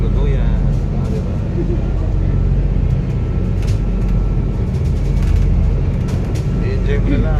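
A motorboat rides over waves under strong sun, its engine a steady loud rumble mixed with water and wind noise throughout.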